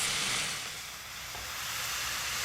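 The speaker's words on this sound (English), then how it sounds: "first thing we're going to do is brown up the meat" Meat browns in a hot pan for taco samosas, giving a steady, moderately loud sizzle and hiss that swells and eases slightly, with no talking.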